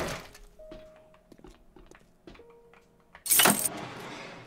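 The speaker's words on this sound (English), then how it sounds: "Oh, I found keys." In the zombie survival game 7 Days to Die, a set of keys is picked up, giving a loud, bright jangle near the end after a few soft thunks and clicks.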